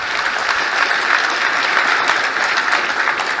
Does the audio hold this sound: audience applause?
yes